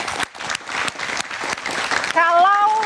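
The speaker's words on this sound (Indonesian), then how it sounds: "Tepuk tangan dulu dong." Studio audience applause during an Indonesian political talk show, dense clapping that builds, with a voice talking over it near the end.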